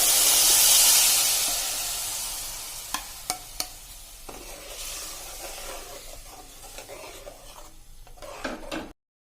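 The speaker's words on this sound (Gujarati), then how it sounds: "હવે એમાં આપણે આ જે દ્રાક્ષનો પલ્પ કર્યો છે ને એ એડ કરી દઈશું." Grape pulp poured into a pan of sautéed ingredients for grape chutney, a loud burst of sizzling hiss that fades as a spoon stirs and scrapes with scattered clinks against the pan.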